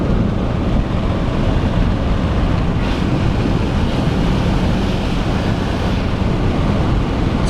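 Wind rushing through an open window of a 2026 Toyota RAV4 while driving, a loud, continuous broadband roar with no talk.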